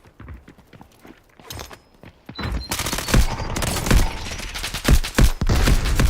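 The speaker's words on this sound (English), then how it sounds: "I hear gunfire." Gunfire in the video game Delta Force: scattered distant shots at first, then a dense, loud burst of rapid automatic fire with sharp cracks continuing to the end.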